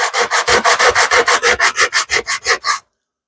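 A wooden cigar mold rubbed with coarse sandpaper to strip glue buildup, about fourteen quick, even back-and-forth strokes, loud and close, then sudden silence.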